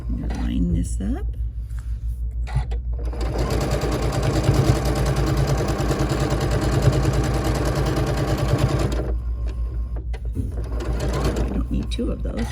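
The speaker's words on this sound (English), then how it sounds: "I'm going to have that go into my machine" A domestic sewing machine runs steadily for about six seconds, stitching fabric pieces for a quilt block, with a fast even motor whir and needle clatter, loud and close, framed by quieter handling noises before and after.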